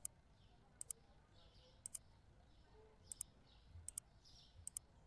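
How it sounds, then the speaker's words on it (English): Sharp mouse clicks from the Supermarket Simulator game come in quick pairs and small clusters at irregular intervals, crisp and close over a quiet background. "that clicking sound's going to be very annoying very quickly"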